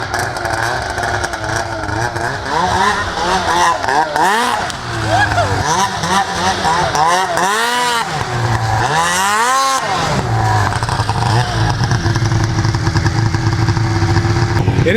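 Ski-Doo snowmobile engine revving hard and rising and falling in pitch, with its track spinning on an icy driveway, loud and close throughout, while someone talks over it now and then.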